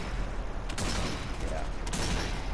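Steady gunfire in Zombie Army 4 on the Zombie Zoo nightmare difficulty, with a dense rattle of shots over a constant loud battle din.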